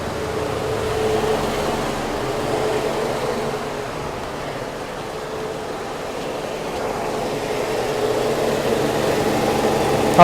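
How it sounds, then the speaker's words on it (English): A GM Cavalier engine idles steadily with its AC compressor running, giving a continuous low hum and whir heard close by at moderate level, with no talk. "with the engine started again"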